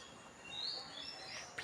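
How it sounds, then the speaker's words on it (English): Faint birds chirp outdoors at a distance, a few thin high tweets and a short whistle over quiet background ambience. "Can you hear the birds?"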